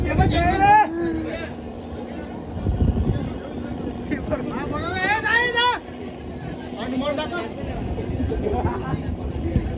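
Several boats under way on the water by a dredging site, a continuous motor drone running throughout, with people chattering and calling out loudly over it close by.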